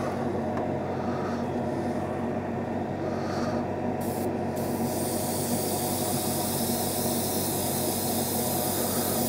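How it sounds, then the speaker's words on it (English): A paint spray gun sprays paint in a continuous, loud, even hiss that holds steady throughout with no talking. "let's go ahead and spray it. I got my gun all loaded up"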